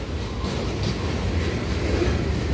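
A train rumbles steadily past the Waycross, Georgia train deck, a loud, continuous close rolling roar with faint rail clatter and no voices.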